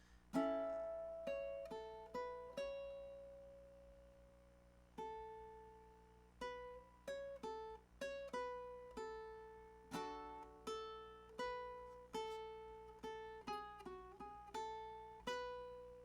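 A plucked ukulele plays a bright riff alone, mixing single notes and short chords in a bouncy rhythm with brief pauses.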